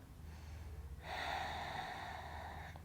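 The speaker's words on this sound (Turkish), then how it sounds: "Burundan derin nefes alıp sakin nefes veriyoruz." A single person draws a deep breath in through the nose, then lets out a long, calm, steady exhale, close and quiet against a faint low hum.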